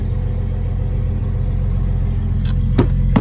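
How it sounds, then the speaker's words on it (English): Loud car cruising past during Mustang week, a steady heavy engine rumble holding throughout, close by, with a couple of sharp higher-pitched bursts near the end as it revs. "Watching the loud ass cars go by."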